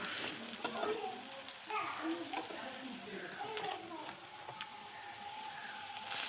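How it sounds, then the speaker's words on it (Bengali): Ginger, garlic and green chili paste sizzle in a pan of oil as it is stirred for a soybean kofta curry, a continuous frying hiss with occasional stirring scrapes while a person talks over it. "এই দিয়ে দিচ্ছি আদা, কাঁচা লঙ্কা, রসুন বাটা দিয়ে এটাকে আর একটু নেড়ে চেড়ে ভেজে নেব"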